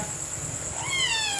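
A pet cat at home gives a single short, rising meow near the end, heard close over a faint, quiet room background with a thin high insect-like hum.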